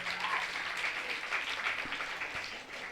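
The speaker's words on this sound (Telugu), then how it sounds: "ఒకసారి గట్టిగా చప్పట్లు కొట్టాలి" Audience clapping at a youth Vacation Bible School gathering: a dense, steady wash of applause from a crowd, moderately loud throughout with no pauses and no talk over it.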